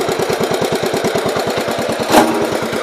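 A 1970 Gravely 408 garden tractor engine idles close and loud with an even, rapid thumping beat and a brief louder burst near the end.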